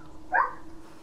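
A single short dog bark from DayZ, a mid-pitched yip rising briefly out of low ambient game noise, moderately close and heard alone.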